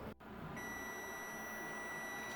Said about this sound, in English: timer just went off for 1 hour